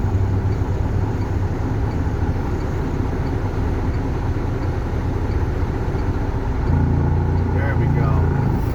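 A tractor engine pulls away in second gear with a loud, steady low rumble throughout, rising a little near the end, as people talk over it.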